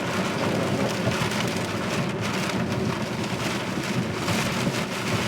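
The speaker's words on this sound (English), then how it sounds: "The rain has tampered down a little bit," Heavy rain pours during an 80 mph high-wind thunderstorm, a dense, loud, continuous roar of drops hitting surfaces with rumbling wind, steady from start to finish.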